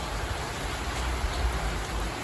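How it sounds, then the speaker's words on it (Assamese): Rain falls at night outside a cottage in Shillong, a dense, steady hiss of drops, close and even, with no voices. "বৰষুণ দি আছে"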